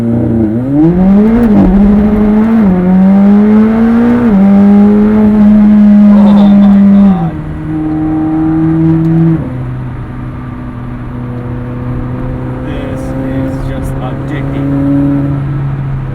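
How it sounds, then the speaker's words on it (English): A McLaren 765LT launches under launch control at full throttle, its engine roaring loud and close as the pitch climbs through several quick upshifts, then settling into a steadier, lower drone as the car pulls away. "Gonna hit this launch button here, foot in the brake. Waiting full throttle, boost building, ready, launch it."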